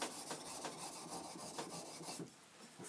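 A plane blade is honed on a soft Arkansas sharpening stone. Quiet, close scraping strokes rub back and forth in a steady rhythm, with no voices.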